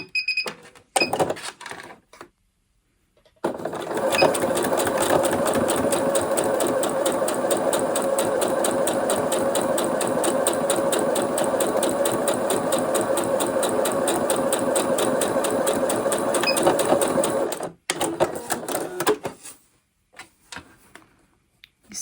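A sewing machine stitches parallel lines on fabric in one steady, fast, close mechanical chatter lasting about fourteen seconds, framed by brief clicks and handling noises before and after.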